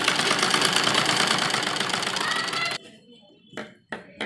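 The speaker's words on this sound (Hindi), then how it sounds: "लास्टिक को ऐसे खींचेंगे और बीच में सिलाई लगाएंगे।" An electric sewing machine runs steadily at close range, stitching stretched elastic into a cotton baby dress for a two-to-three-year-old, then stops abruptly and gives two short bursts of stitching.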